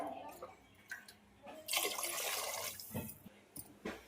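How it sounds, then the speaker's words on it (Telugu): Water splashing and trickling into a cooking pot of tamarind-leaf dal at home, a steady pour mid-clip with lighter drips and clinks around it, fairly quiet. "ఆయిల్ పోసేసుకున్న తర్వాత వాటర్ పోసేసుకుందాం."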